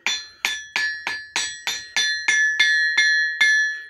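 Ten evenly spaced hammer strikes on a lead-damped anvil, each a short ringing clang that decays quickly, close and alone.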